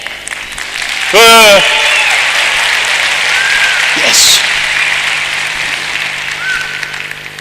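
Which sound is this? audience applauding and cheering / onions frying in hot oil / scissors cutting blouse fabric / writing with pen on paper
audience applauding and cheering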